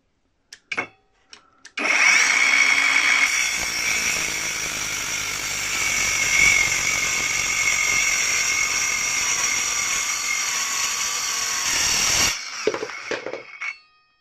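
A mini cordless circular saw cuts through 28 mm blockboard freehand, whining loudly and steadily for about ten seconds after a few clicks and a brief start, then winds down with clattering handling.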